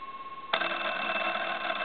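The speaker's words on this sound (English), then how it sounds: "these bells would knock you over, and they are very loud" Loud, continuous ringing of the bells on a Western Electric wood wall telephone, bursting in abruptly after a faint steady tone and clanging on without a break, with no talking.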